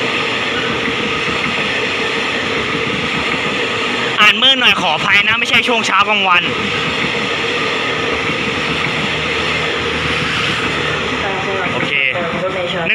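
A Thai passenger train rumbles past nearby with a steady clattering roar, while someone talks briefly over it partway through.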